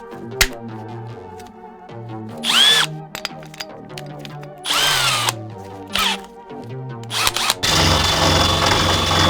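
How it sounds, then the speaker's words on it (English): A power tool fitted with an abrasive wheel sands the inside surface of a campervan high top. It gives repeated loud bursts of high-pitched grinding whine separated by short pauses, with a longer harsh grinding stretch near the end. "I'm going to be sanding down the surface of the high top on the inside"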